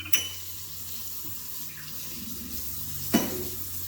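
Water pours steadily into a bowl of oil and marinade mix, a soft continuous stream bracketed by a couple of light clinks of a container.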